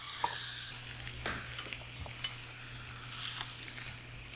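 A seasoned pork chop with a fat cap sears in a hot skillet, a steady close sizzle with faint pops and crackles throughout, no voices.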